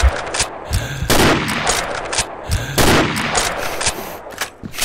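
Gunfire in the online shooter Combat Arms during a clan war match: rapid, loud bursts of shots crackle repeatedly, with two especially heavy volleys standing out amid continuous firing.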